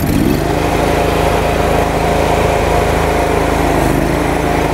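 Ditch Witch trencher engine revs up to full throttle, a loud, close, buzzing small-engine whine that rises quickly at the start, then holds a steady high drone with no talk.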